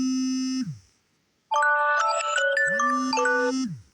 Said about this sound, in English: Why do I keep getting notifications?